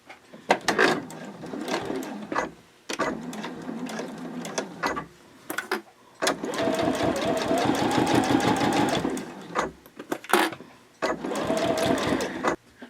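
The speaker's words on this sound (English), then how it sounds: "now we're ready to go ahead and sew these side seams" A sewing machine stitches the side seams of a quilted fabric bag, running in several bursts of rapid, even mechanical rattling separated by short pauses, close and clear.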